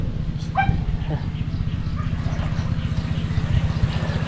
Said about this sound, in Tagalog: May kalaban lang aso.